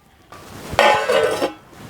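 A brief metallic clatter and scrape up close as a lid is set down onto a pressure cooker of khichdi, then quiet.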